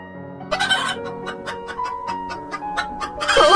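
Cartoon chicken sound effect: a series of rhythmic, evenly spaced clucks over a musical background, close and fairly loud, ending in a louder flurry of squawking.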